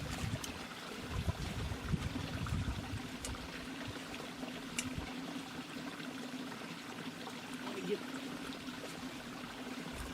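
Creek water flows in a steady, even rush close by, with a few brief bumps and rustles of handling near the start.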